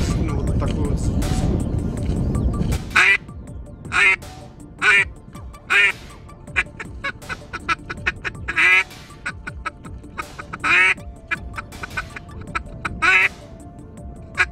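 Duck call mimicking the spring song of a female duck, a series of short nasal quacking bursts in quick rhythmic runs, fairly close and clear, following a few seconds of low rumbling handling noise.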